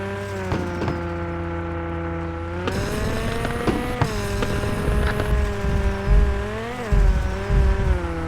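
A car engine lacking power strains as it climbs, holding a steady, laboring drone close by that swells and rises slightly in pitch.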